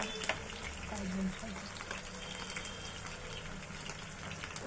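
Pieces frying in a pan, a soft, continuous sizzle with faint crackles and an occasional stir, quiet and close, under light background speech.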